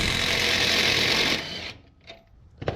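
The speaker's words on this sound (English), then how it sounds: "We're going to start by removing this 19mm bolt here." An impact or air tool spins off a 19mm caliper bolt on the front brakes of a 2012 GMC Yukon, a loud rapid buzzing rattle lasting over a second, then stopping, followed by brief metallic clicks and handling noises.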